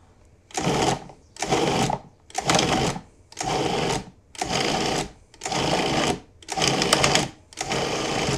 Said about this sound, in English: Because this has been sitting at room temperature for about 45 minutes, it's blending up really well.